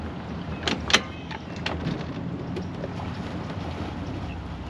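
A Starcraft CX 23 DL bar boat with a Verado 250 outboard runs with a low, smooth engine rumble under steady wind and water rush, with a few knocks early on and no talking.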